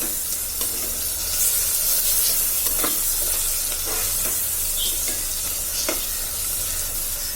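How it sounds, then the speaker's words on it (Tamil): Whole spices sizzling in hot oil in a pan as the base for mutton biryani, a steady crackling fry broken by repeated stirring scrapes, close and fairly quiet with no talking. "இன்னும் கொஞ்சம் நல்லா ஃப்ரை ஆகணும்."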